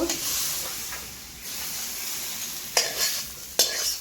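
Steady sizzling of spices and tomato frying in a pan, with a couple of sharp scraping stirs near the end; no talking.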